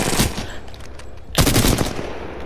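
Pistol fire in the video game Apex Legends: a sharp shot at the start, then a quick burst of close, loud rapid shots after a brief pause.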